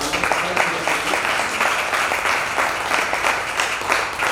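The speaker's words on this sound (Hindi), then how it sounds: "एक बार जोरदार तालियां।" A hall audience claps loudly and steadily at a ceremony honouring poet Anshul Vyas, a dense continuous patter of many hands with little talk.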